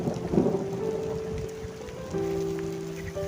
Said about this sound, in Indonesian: Udah hujan mas bro.